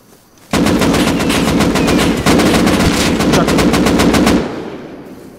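An automatic weapon in a video game fires one long, loud, rapid burst of shots for about four seconds and then cuts off, leaving a fading tail.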